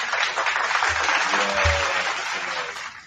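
A crowd applauding steadily for about three seconds, a dense wash of clapping at even loudness with a couple of low thumps partway through.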